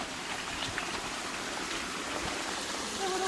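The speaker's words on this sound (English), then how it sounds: "A little waterfall. I told you there was a waterfall. Tiny waterfall." A small waterfall on a mountain creek trail gives a steady, close rush of falling water, a continuous broadband splash with no pauses.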